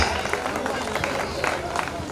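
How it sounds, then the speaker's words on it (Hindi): An audience at an educational awards ceremony claps to welcome a guest, a brisk scattered round of applause with crowd murmur, moderately close and fairly even throughout. "जोरदार तालियों से स्वागत करिएगा आप सभी"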